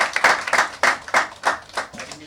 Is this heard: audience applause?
yes